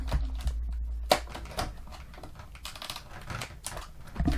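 Cheap, worn scissors snip through the plastic ties holding a Super7 Lion-O action figure in its packaging, giving a few sharp, close clicks and cuts spaced irregularly over near silence.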